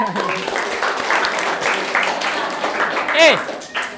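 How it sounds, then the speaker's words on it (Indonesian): Schoolchildren clapping in an Indonesian classroom after two student groups are chosen, loose applause under chatter and shouting, with one high squeal near the end. "Oke, tepuk tangan."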